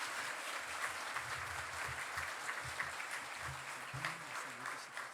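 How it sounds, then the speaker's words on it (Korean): Steady, sustained applause from a church congregation during a Korean Sunday worship service, welcoming a pastor to the pulpit; dense, even clapping that carries on without letup. "우리 큰 박수로 환영해 주시면 감사하겠습니다."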